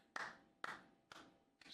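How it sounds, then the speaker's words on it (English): A man claps his hands during a casual livestream, four sharp, close claps in an even, unhurried rhythm, each with a bright snap and a short decay, and no talking. "Just love clapping. He's a good clapper."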